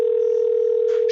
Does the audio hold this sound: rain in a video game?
no